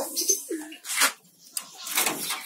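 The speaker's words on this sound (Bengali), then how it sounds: "আমার কবিতরগুলোর কি খবর?" Pigeons in a pigeon house coo softly close by, with a few short calls and rustling bursts in between.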